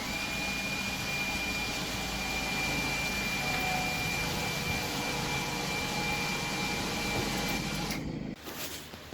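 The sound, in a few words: power tool cutting a hole in a panel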